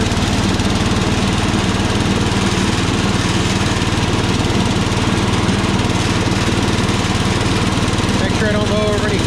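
Power King garden tractor mowing grass, its engine and cutting deck droning loud and unbroken right at the mic, with a faint tonal squeal near the end.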